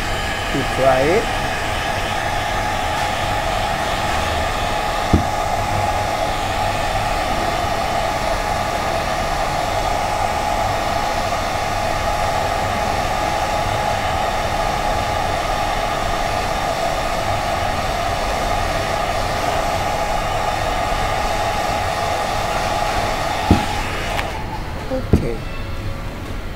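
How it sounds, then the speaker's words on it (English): A hair dryer blows on a painted jar to dry the coating, a loud, steady whirring drone that runs nearly the whole time and then cuts off near the end. "And then we take the hair dryer."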